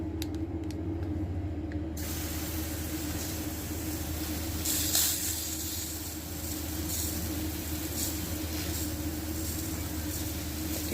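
A cheap cordless pressure washer sprays a steady jet of water through its nozzle toward a tree trunk and stump outdoors, a continuous hiss with a hum beneath, a brief louder burst midway.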